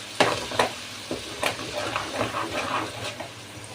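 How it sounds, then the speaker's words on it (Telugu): Ginger garlic paste frying and being stirred in a pan, with soft sizzling broken by a series of sharp scraping stirs, close and alone. "ఈ అల్లం వెల్లుల్లి పేస్ట్ అయితే ఫ్రై చేసుకోవాలి."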